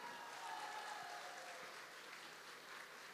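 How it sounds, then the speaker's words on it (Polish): An audience at a Women's Day gala of popular music in Tomaszów Mazowiecki applauds the event's organiser: a steady, faint wash of clapping with no voices over it. "wielkie brawa!"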